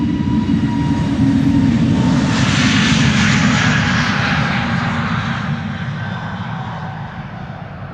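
An SAS Airbus A320neo jet taking off at Schiphol for Copenhagen gives a loud, close engine roar with whining tones that rises early, then slowly eases as the aircraft pulls away.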